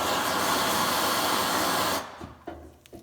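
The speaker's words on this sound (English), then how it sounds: "I'm going to just heat it up a little more." A gas torch roars steadily as it heats copper pipe and a 3/4-inch brass valve for brazing, then cuts off after about two seconds, leaving a few faint clicks and small clanks.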